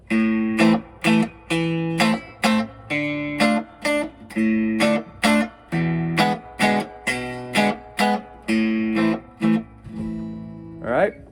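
A guitar strums a short chord progression, each chord struck and held in a steady, evenly spaced rhythm, ending on a final ringing chord.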